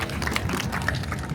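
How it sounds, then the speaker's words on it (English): An audience claps for a street sword swallower in Amsterdam, a scattered outdoor patter of many hands that is close and fairly loud and lasts about a second and a half, with no voices over it. "Can I have some clapping, maybe? Clapping?"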